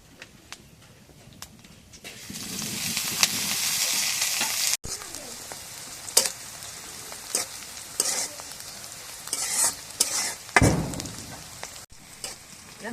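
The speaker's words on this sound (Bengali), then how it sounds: "পেঁয়াজ মরিচ ভাজা হয়েছে" Steady sizzling of onions and chilies frying in a pan, with scattered stirring clatter and a louder burst of sizzle near the end; no talking.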